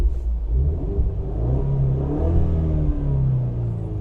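A Ford Mustang with a 2.3-litre high-performance engine revs hard through its active exhaust, a loud, close, deep rumbling roar that rises and settles in pitch over a few seconds.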